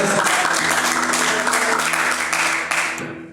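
A church congregation gives a loud round of applause to the Lord during a Bible class, a dense burst of many hands clapping with a faint hum beneath, fading away over the final half-second.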